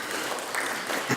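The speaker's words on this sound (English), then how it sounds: "Can we give him a round of applause, please?" At a bail reform announcement, a brief, fairly faint patter of audience applause rises for about a second, a scattered clapping texture heard on its own.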